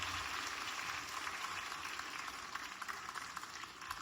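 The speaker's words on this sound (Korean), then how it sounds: "박수하겠습니다" At an Easter Sunday church service, the congregation claps for two young members in a faint, steady patter of many hands. The applause stays soft and even throughout.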